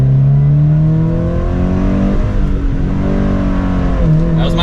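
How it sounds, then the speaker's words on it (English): A Subaru BRZ or Toyota GR86 with a manual gearbox accelerates hard from second gear, its engine note loud and close and climbing steadily in pitch with a brief dip partway through. "we'll give it a little bit of an acceleration"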